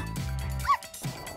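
A small dog gives a short yipping bark near the middle, a brief high whimpering yelp set between soft background sounds.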